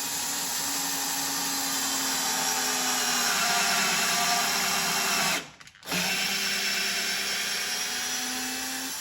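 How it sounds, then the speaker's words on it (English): A low-powered screwdriver drill drives a tap to cut a thread into oak, giving a steady, close whine that cuts off in a short pause near the end and then resumes. "I'm just using a really unpowerful screwdriver drill, and then let's check that thread out."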